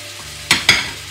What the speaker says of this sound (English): Now I have to put this broad bean in.